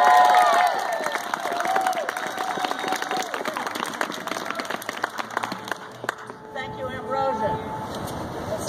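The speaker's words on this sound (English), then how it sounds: "Give a warm welcome and a big round of applause for Reverend Lynn Hopkins." Crowd at an outdoor rally applauding and cheering for Reverend Lynn Hopkins, with dense clapping and shouts at first that thin out toward the end, mixed with voices and background noise.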